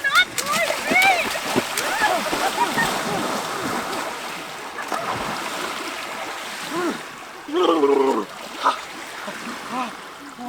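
Water splashes and churns in bursts near the microphone, with people talking and shouting over it and a louder splashing burst near the end.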